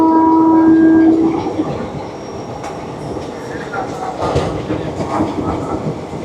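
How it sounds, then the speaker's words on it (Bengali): A passenger train rumbles and clatters along a 180-degree curve near Barsoi Junction, a horn-like tone fading early, then steady wheel noise with rhythmic clicks and squeals. "আমাদের ট্রেন ঢুকবে পরবর্তী স্টেশন বারসই জংশন"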